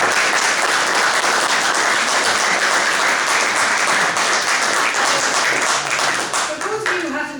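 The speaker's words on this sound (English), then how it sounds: "can we have a round of applause for" Loud, sustained applause from a large audience, steady throughout and tapering slightly near the end.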